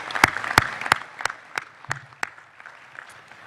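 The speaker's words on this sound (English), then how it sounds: "If you would join me in a round of applause for people that set this up." A round of applause at a scouting celebration luncheon: a handful of sharp, distinct claps at first, thinning into scattered, quieter clapping from a modest crowd in a hall.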